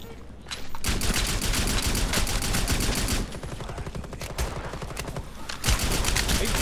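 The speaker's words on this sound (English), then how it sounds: "Are you telling me I can't shoot through wood?" Rapid automatic gunfire from Rainbow Six Siege Outbreak, loud and sustained bursts with dense repeated shots, a brief pause near the middle and a final burst at the end.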